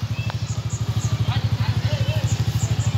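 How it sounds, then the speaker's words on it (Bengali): A motorbike is ridden along a road toward Lal Pahar in Sreemangal, its engine throbbing in a steady, rapid low pulse close to the microphone. A faint voice comes and goes beneath the engine. "আমি মোটর বাইক চালাচ্ছি"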